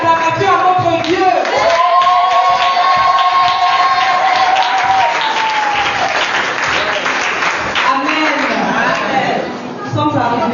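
Church congregation applauding, a loud sustained roar of clapping and cheering that fades slightly toward the end, with a voice and sung or shouted tones over the crowd.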